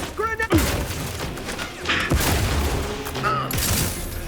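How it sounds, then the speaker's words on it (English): A grenade blast and bursts of gunfire in the video game The Outer Worlds, with heavy booms and rapid shots over a noisy combat mix while a voice calls out. "Have to reload! Clear out! Grenade!"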